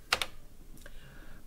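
A couple of sharp keystrokes on a computer keyboard while entering commands into a BASIC09 program editor, followed by a faint click, close and dry against a quiet room.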